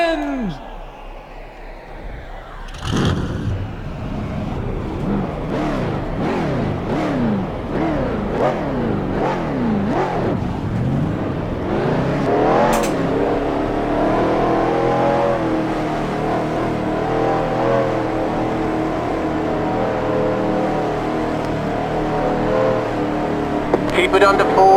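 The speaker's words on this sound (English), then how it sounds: "Drivers, start them engines!" Race car engines in a racing video game roar to life at the start, with sharp revs and rising whines repeating in quick succession before settling into a dense, steady engine drone, loud and close, with a voice talking over it.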